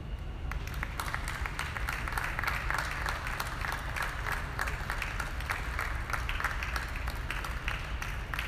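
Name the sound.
audience applause at a dairy cattle show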